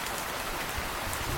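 Steady rain falls in a cartoon forest during a flood, a continuous dense hiss that stays loud and even from start to finish, with no voices.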